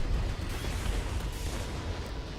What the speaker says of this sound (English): I'm just using up all my remaining missiles now.